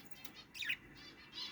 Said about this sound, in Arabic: وعندي قفص ثاني حاط بيه طيور حب العاديات